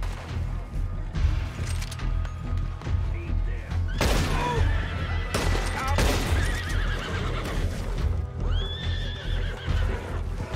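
A horse in the video game Red Dead Redemption 2 whinnies loudly several times over the clatter of galloping hooves, mixed with bursts of gunfire and crashes, while a voice speaks intermittently.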